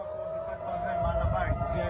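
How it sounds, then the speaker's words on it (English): Air raid sirens sound over Tel Aviv at night, a steady, sustained wail holding through the whole stretch beneath other background noise. "Sirens fill the night sky over Tel Aviv."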